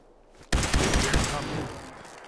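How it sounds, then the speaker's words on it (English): Laser turrets firing in Fallout 4's Nuka-World, a sudden loud burst of rapid crackling shots that starts abruptly, then thins out as the barrage fades. "Those laser turrets do a lot of damage."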